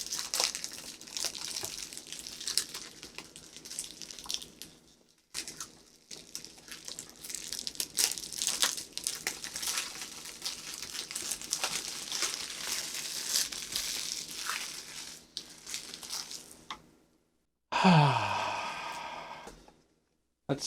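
Packaging on an EZVIZ security camera box is peeled and torn open, making loud, sustained plastic crinkling and crumpling with short pauses, then a sharper tearing burst near the end.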